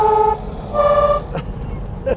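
Two loud, tonal horn blasts from the alarm horn of a 1949 VW Type 18A Hebmüller police car sound in succession, each held for a moment, followed by a short clunk and a brief final tone.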